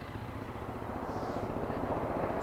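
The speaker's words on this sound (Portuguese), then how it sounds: "Ó o motorzinho." A new, zero-kilometre motorcycle engine with a stock exhaust and a borrowed Sahara 350 carburettor runs steadily at idle, a continuous close-up rumble with no talking.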